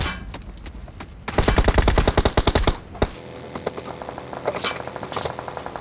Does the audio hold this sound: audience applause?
no